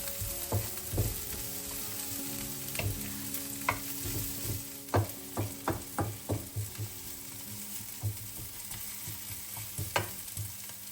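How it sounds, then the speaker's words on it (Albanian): Onion and red pepper frying in a pan, a soft sizzle punctuated by a series of distinct spoon or spatula scrapes and knocks, some in quick succession, with a faint tonal hum in the background. "do ta përzijmë për disa minuta derisa specia të fillojë të zbutet"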